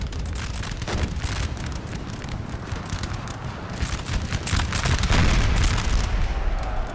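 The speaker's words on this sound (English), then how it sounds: "Artillery hit." Artillery in Napoleon: Total War pounds the field during a battle at Leipzig, a continuous heavy rumble of booms and distant blasts building louder toward the end, with no talk over it.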